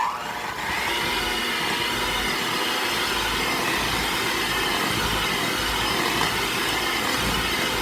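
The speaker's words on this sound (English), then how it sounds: "Now we're going to continue mixing until they're well incorporated." An electric mixer runs steadily through mint chocolate chip cookie dough, a continuous close whirring motor drone with a broad hiss that holds level throughout with no talking.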